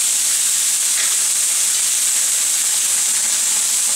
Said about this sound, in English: Into there, we're going to throw our onions. As well as some garlic.